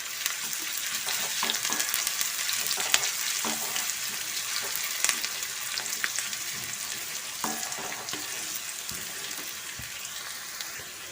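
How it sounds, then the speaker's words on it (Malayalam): Sliced onions and curry leaves crackling in hot oil for a curry tempering, a dense, continuous sizzle with scattered sharp pops and occasional utensil clinks, close and steady, with no one speaking. "ഉള്ളി മൂത്ത് വന്ന് തുടങ്ങിയിട്ടുണ്ട്"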